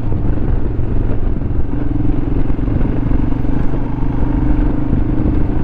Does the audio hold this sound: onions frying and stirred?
no